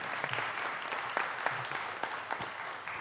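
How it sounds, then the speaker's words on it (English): Audience applause at a city budget town hall meeting held in a school in the evening, steady moderate clapping throughout with a few sharper claps standing out, fairly distant. "So please give them a round of applause"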